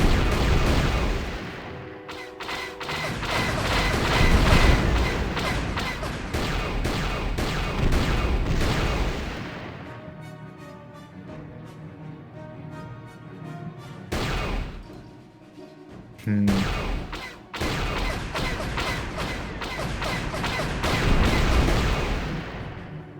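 Heavy turret gunfire in a KOTOR turret segment: dense, loud bursts of rapid shots and blasts running continuously, easing off briefly in the middle before resuming at full intensity.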